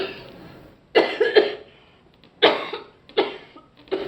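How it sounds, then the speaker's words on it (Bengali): A person coughs in several bursts, two or three harsh hacks per fit separated by short pauses, close and loud. "টাকার কথা শুনলেই তোমার এই কাশিটা শুরু হয়।"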